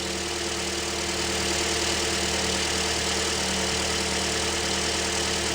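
A cold 2017 Toyota Corolla 1.8 engine with misfires idles steadily at close range with an even, continuous rumble and no voices.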